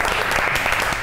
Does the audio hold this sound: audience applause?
yes